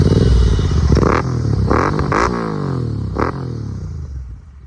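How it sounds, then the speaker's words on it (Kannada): A nearby Royal Enfield Interceptor 650 motorcycle engine revving hard, its pitch rising and falling in several throttle blips before settling into a rumbling idle. "ಮತ್ತೆ ಬೈಕ್ ಸೌಂಡ್ ಕೇಳಿಲ್ಲ ತಾನೇ, ಅದನ್ನ ಕೇಳಿ ಹೆಂಗಿರುತ್ತೆ. ಸ್ಟಾರ್ಟ್ ಮಾಡೋ."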